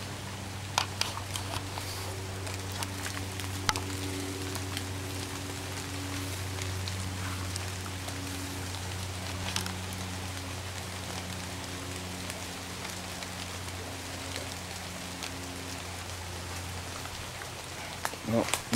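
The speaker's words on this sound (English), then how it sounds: "but it's raining." Steady rain patters down in the background, a soft continuous hiss with a low hum running underneath and a few scattered drips.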